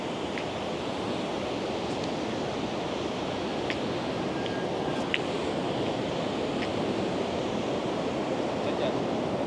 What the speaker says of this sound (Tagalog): Ang lalaki ng alon, guys.